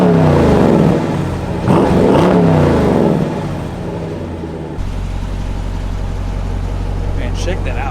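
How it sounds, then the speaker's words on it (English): The engine of a 2021 Dodge Durango SRT, a 500-horsepower SUV, revs loudly up and down a couple of times close by, then settles into a steady low rumble. "I'm going to go ahead and let you guys hear a couple of revs"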